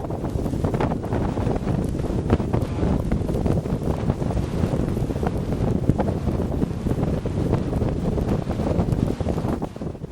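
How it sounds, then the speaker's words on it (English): Strong, steady wind buffets the microphone without pause during an hour-long climb of Mount Kingate above Cape Dorset, Nunavut, in Arctic cold near minus 40 degrees, a dense roaring rush with gusty bursts and no voices. "After nearly an hour of climbing headfirst into the wind"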